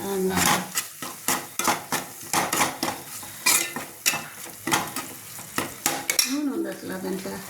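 Spices, including two spoons of Rayalaseema chilli powder, being stirred into a country-chicken curry in a pan: a quick run of metallic spoon scrapes and clinks against the pan, close and busy, with a faint sizzle and voices talking partway through.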